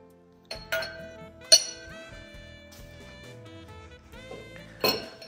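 Wine glasses clink together as they are picked up and handled, giving three bright ringing chinks with lingering tones between them, close and fairly quiet, with no talking.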